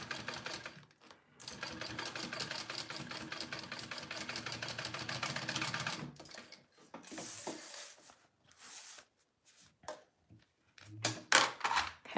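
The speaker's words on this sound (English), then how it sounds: "I'm just top stitching along here." A sewing machine top stitches fabric for a sling bag in a steady, fast mechanical whir for about five seconds, followed by shorter bursts of stitching and quiet handling noises.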